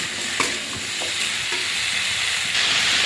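Prawns, onion and taro with salt, turmeric and chili powder are stirred in a hot pan, a steady close sizzle broken by soft scraping strokes of the spoon, with no voice.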